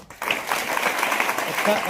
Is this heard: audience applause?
yes